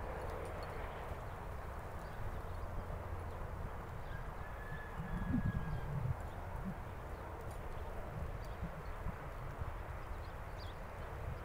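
A horse walks on soft outdoor ground, its hoof falls muffled and indistinct under a steady low rumble of wind or background noise, with no talking.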